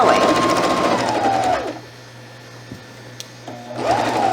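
A sewing machine stitches pajama pants in a middle school sewing lesson, a loud close whirring hum that runs, stops for about two seconds with a faint click, then starts again.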